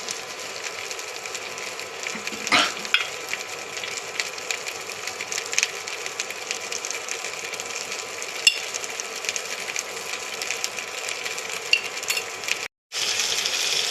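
Okra cooks in a pan as salt is added and stirred in, a steady frying hiss with scattered scraping and clinking spoon touches, one sharper hit early on, no talk.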